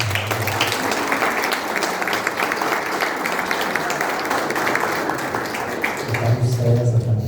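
Applause filling a church hall during an opening mass for an anniversary celebration, a dense sustained wash of many hands clapping that continues throughout, with a voice coming in near the end.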